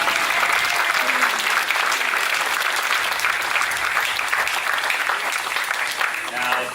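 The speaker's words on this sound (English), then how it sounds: "a round of applause, please" Sustained applause from a theatre audience at a showgirl stage show, a dense steady wash of many hands clapping that fills the whole stretch, close and loud, with a little crowd noise mixed in.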